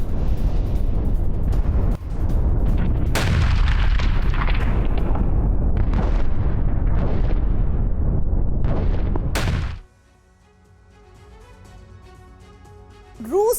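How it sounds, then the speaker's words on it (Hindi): Heavy Russian bombardment of Chasiv Yar, Ukraine: a continuous roar of explosions with repeated booming blasts, the loudest cracks near the middle and end, then it drops to a faint, quiet tail. "यूक्रेन के चासिव यार में भीषण बमबारी हुई है।"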